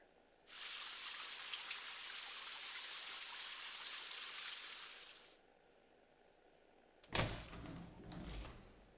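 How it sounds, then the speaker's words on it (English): A game shower runs as a steady broadband hiss of falling water for about five seconds, then stops, followed by a sliding door or clattering thud. "Just a quick shower today."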